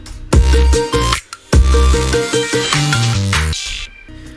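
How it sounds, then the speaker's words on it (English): Master bus running through a bit crusher, turning a synth-and-bass pop track crunchy and gritty; loud, with heavy low hits at the start and a sudden drop near the end, no talking. "we have a bit crusher on the master, which is just doing this"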